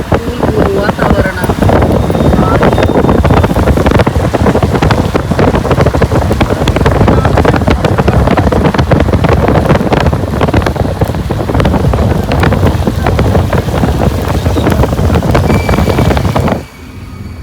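A cool wind blows hard outdoors and buffets the microphone with loud, rumbling gusts that roar steadily for most of the time, then drop off abruptly near the end.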